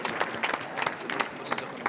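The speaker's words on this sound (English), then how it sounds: "Can we get a big round of applause for all our participants and all their hard work to get to this point?" Audience applause for the contestants at a cardiothoracic surgery resident quiz showdown, a steady patter of many hands clapping in a hall with some scattered louder claps.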